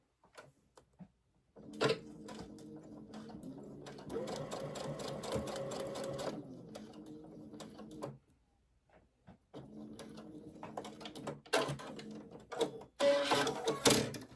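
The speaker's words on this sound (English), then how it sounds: "we're going to go ahead and sew number 3" Sewing machine stitching a paper-pieced quilt block in rapid mechanical bursts, a long run, a pause, then more short runs with clicks and handling noises between, close and fairly quiet.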